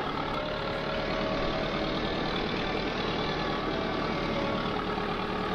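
Sonalika 60Di tractor engine pulling under load in the video game Farming Simulator 22, a steady, continuous low engine drone, close and unchanging, without talk.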